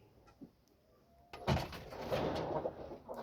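Rooster and hen, pedigree fighting-breed fowl offered for sale, clucking in a yard; a faint bird call first, then a louder burst of clucking and scuffling close by that continues through the rest.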